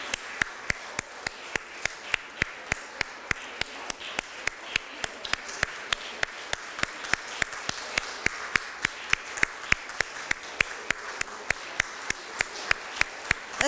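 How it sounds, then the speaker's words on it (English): Audience at a children's book awards ceremony claps in a steady, brisk rhythm, many hands striking together in sharp repeated beats over a soft crowd wash for the whole stretch, moderately distant. "Don't stop now, keep on clapping"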